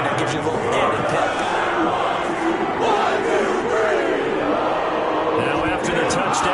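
Home crowd roaring in the Madden 21 American football video game, a dense, steady, loud stadium roar that fills the whole stretch without a break.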